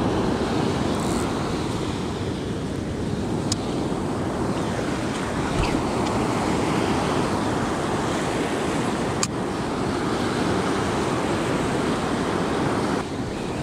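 Steady ocean surf washes against a beach where surfperch are fished, a continuous loud wash of breaking waves with wind rumbling on the microphone, and no voices.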